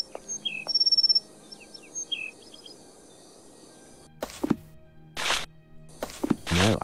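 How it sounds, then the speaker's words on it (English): Chirps and tweets from a blue bird of paradise in a Sherlock Holmes video game, a run of short bird calls over a faint ambient bed, followed by louder bursts of broadband noise. "we are dealing with a blue bird of paradise"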